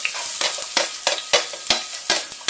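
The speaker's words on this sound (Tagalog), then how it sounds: "mainit na po yung kasirola natin. Ibigas natin yung sibuyas." Chopped onions hit a hot cooking pot and sizzle loudly up close, a bright crackling hiss broken by regular stirring scrapes about every third of a second, with no talking.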